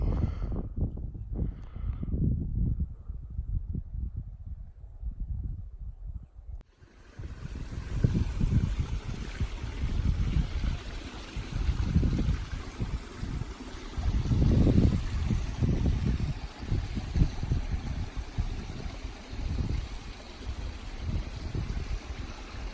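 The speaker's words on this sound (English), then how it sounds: "there's a waterfall inside, and there's a waterfall down there" Water rushes steadily from a stream and waterfall near a trailside water collection spot on the Pacific Crest Trail, a continuous near, loud wash after a brief quieter moment early on.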